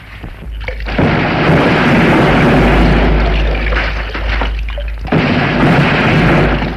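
Cannon and rifle fire explode through a 1964 Turkish war film set at Çanakkale, a dense continuous rumble of booming blasts and bursts that swells after the first second and surges again near the end, loud and close.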